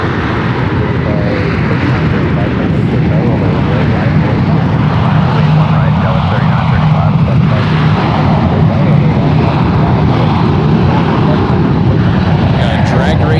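Two airliners, a Delta and a United jet, roll for takeoff side by side at San Francisco International Airport, a steady loud jet engine roar filling the air throughout with a deep low rumble.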